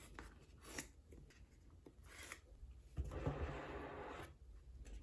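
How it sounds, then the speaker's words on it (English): Paper tabs pulled and torn on the box of a Pixel 7 Pro phone being unboxed: quiet scratchy rasps and rubs, then a longer tearing scrape near the end, close but faint, with no talking. "Looks like we just pull the tabs here."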